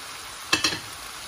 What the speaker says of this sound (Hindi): हम इसके अंदर डालेंगे टमाटर और सब्ज़ मिर्च जो हमने काट के साइड पर रखी हुई है